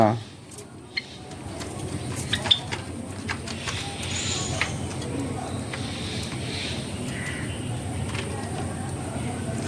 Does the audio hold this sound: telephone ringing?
no